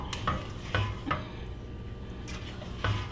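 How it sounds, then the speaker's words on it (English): A spoon scrapes caramelized bits off the inside of a pot into simmering chili: a few short, close scraping strokes over a low, steady bubbling. "Scrape off some of the caramelized stuff on it so it gets actually into the chili"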